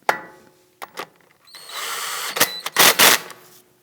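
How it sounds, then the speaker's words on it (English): Power tool briefly running to snug down a front axle bolt on a 2001-2009 Volvo S60 during ball joint work, with a few short clicks then a whirring burst and sharp pulses, close and fairly loud, no talk. "Let's go ahead and install our axle bolt. And let's gently snug this down."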